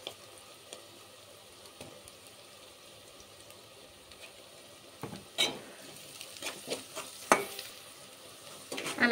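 Finely chopped onions frying with turmeric and salt for a lentil curry: a quiet, even sizzle at first, then louder bursts of stirring and spoon scrapes in the second half.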